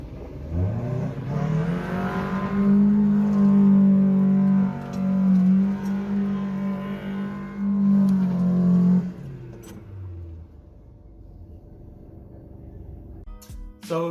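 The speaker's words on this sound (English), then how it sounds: "I did do some donuts in that car in my backyard" A K-swapped Toyota MR2 with blown shocks does donuts in a backyard, its engine holding a loud sustained drone for about nine seconds before dropping back to a lower idle, with a few sharp clicks at the end.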